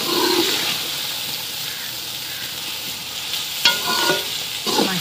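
A ground spice mixture is stirred and fried in a kadai during village-style cooking, giving a soft, steady sizzle broken by near scraping stirs and a couple of sharp utensil clinks.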